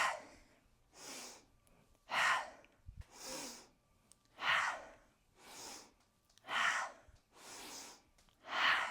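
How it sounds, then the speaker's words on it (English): Sharp, forceful exhales alternate with softer breaths in a rhythmic yoga breathing exercise during a morning vinyasa mobility flow, about eight close breath bursts spaced roughly a second apart. "sharp exhale"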